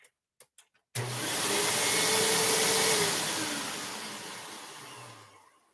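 A vacuum cleaner switches on after a few faint knocks, roaring steadily with a high whine that occurs when it is in its upright position, then slowly winds down and fades out.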